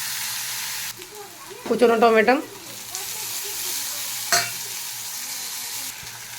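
Whole cumin, ginger and onion paste hit hot oil with a sudden loud sizzle and a stirring burst, then a softer steady frying hiss continues while a voice speaks briefly.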